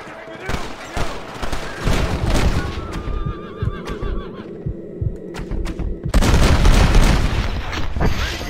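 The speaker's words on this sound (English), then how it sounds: "Oh my goodness, I hear gunshots." Bursts of gunfire in the video game Red Dead Redemption: several sharp shots spread across the clip over a dense bed of game sound, with a horse's whinny and a low throbbing hum mixed in.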